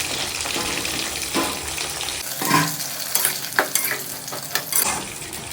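Small brinjals fry in oil and are stirred with a scraping spoon, giving a loud close sizzle broken by clanks and scrapes. No one talks.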